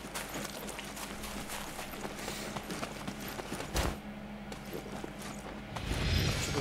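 Hoofbeats of a horse galloping in the video game Naraka: Bladepoint, a steady clip-clop rhythm mixed with mechanical game sounds, continuous and fairly loud, with a heavier thump near the end.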